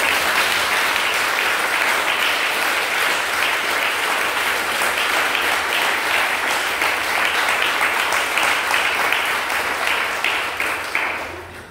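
A church congregation at a worship service bursts into sustained, dense applause, loud and steady for about twelve seconds before tapering off at the end.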